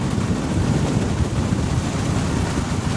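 Heavy rain in a downpour, a steady dense roar with rumbling low wash, close and continuous without any talking.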